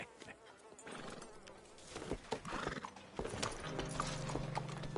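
Horse hooves clip-clop steadily in Red Dead Redemption 2 over a busy outdoor game ambience with buzzing insects and a horse's whinny, with a low droning tone joining near the end.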